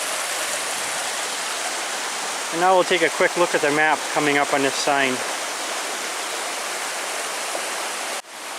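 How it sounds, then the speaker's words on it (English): A small stream runs steadily through the Porcupine Mountains backcountry in Michigan, a continuous broadband rush of flowing water close by, with someone speaking over it for a few seconds mid-way. "There's another small stream coming from that direction,"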